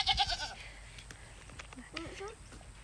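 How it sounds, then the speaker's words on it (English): A few goats bleat at a farm feeding time, short wavering cries near and far, mixed with faint background voices and shuffling. "we're going to start feeding our goats"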